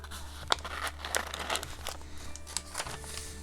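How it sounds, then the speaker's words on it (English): A glassine paper bag crinkles and crunches in steady small bursts close by, a handled crackly rustle against a low background hum. "it's a glassine bag, so it has that wonderful crunchy"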